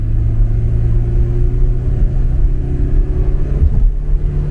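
Stock 1982 Porsche 944 four-cylinder engine droning loudly and steadily from inside the car, a sustained low hum whose pitch climbs slightly toward the end as it revs, with no talking.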